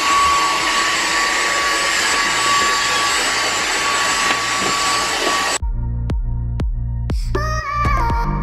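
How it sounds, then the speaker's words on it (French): A household vacuum cleaner runs as a loud, steady broadband roar for about five and a half seconds, then cuts out abruptly and leaves a series of sharp clicks and bumps. "Lucas, il va faire l'aspirateur"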